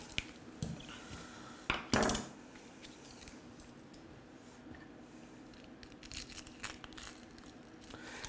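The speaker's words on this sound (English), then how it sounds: "Slice up the onion real quick" A kitchen knife slices through an onion on a cutting board, giving a few sharp, close crunchy cuts near the start and then quieter scattered chopping and handling clatter.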